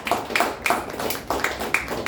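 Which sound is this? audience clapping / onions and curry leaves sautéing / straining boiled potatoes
audience clapping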